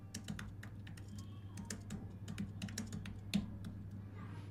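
Rapid typing on a computer keyboard, a steady patter of quiet key clicks with uneven bursts and pauses over a low background hum, close by and faint, with no talking.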